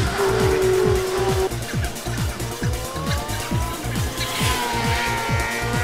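Porsche Boxster race cars at Snetterton, with loud revving engines, rapid gear changes and rising and falling pitch as cars pass close by, and a faint voice in the background.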